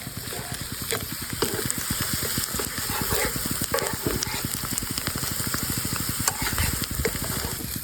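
Onion fritters (peyajer phulki) fry in hot oil with a dense, steady crackling sizzle, full of rapid tiny pops and a few louder spits throughout.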